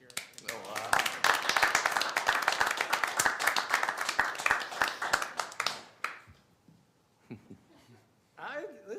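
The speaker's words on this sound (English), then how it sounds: "How about a round of applause?" Applause at a town council meeting honoring a staff member's ten-year anniversary: dense clapping from a room of people for about six seconds, then it fades out and quiet talk follows near the end.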